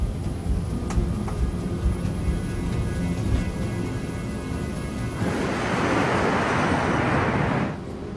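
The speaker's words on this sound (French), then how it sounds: "À cet instant, l'avion décolle." TAM Airlines flight 402 airliner taking off at São Paulo: a steady low engine hum swells into a broad, rushing jet roar for a couple of seconds before cutting off abruptly, with no voices.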